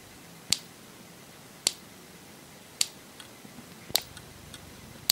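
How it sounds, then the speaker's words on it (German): Sharp, isolated snapping clicks from a broken electric fence energizer arcing at a poor contact, five distinct cracks spaced about a second apart with faint ticks between, alone in a quiet room. "Genau hier funkt es."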